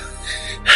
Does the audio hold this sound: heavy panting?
yes